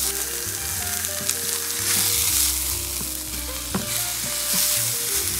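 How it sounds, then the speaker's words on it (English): Pork searing in a hot pan for Puebla-style pozole verde, a loud, continuous close sizzle with a few small pops and no talking. "I'm just gonna sear off my pork"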